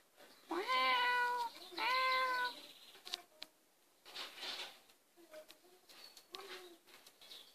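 A house cat meows twice in the morning, each a long, loud, drawn-out cry close by. Quieter chirps and cooing from birds, like a dove, follow after.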